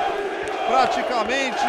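Fans of a packed crowd make noise inside the Pacaembu gymnasium in São Paulo at an MMA event, a steady roar of voices and shouts running under an announcer's talk.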